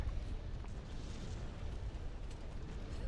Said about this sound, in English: It's a big explosion.